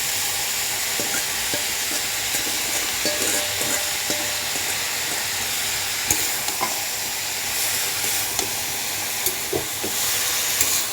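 Helencha greens with pangas fish sizzle and fry steadily in a pan, a constant hiss broken by occasional scraping stirs and clinks of the spatula, with no talking.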